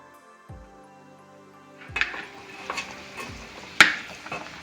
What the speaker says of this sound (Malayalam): കറി നന്നായിട്ട് തിളച്ചിട്ടുണ്ട്. ഇനി വെണ്ടയ്ക്ക വാട്ടി വെച്ചേക്കുന്നത് നമുക്കങ്ങ് ചേർത്ത് കൊടുക്കാം